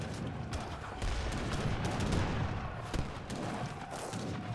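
Mortar and artillery fire in Age of Empires III: Definitive Edition, a steady layer of overlapping booms and thuds from a busy battle, with several louder impacts standing out against the dense rumble.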